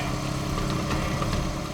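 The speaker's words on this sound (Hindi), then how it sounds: "ये कौन जा रहा बाइक पे?" A motorcycle engine running at night outdoors, a steady, fairly loud mid-pitched engine drone that holds constant throughout, with no voices.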